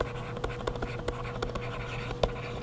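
Figures for initial cost are written down by hand, producing quiet scratchy pen strokes in short irregular bursts over a low steady hum, with no talking.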